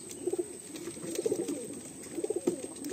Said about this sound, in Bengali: এটা হলো বন্ধুরা নর পায়রা